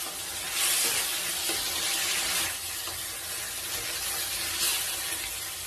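Gongura leaves frying with salt in a pan for an Andhra-style chutney hiss steadily and loudly up close, with a few brief surges of sizzle along the way.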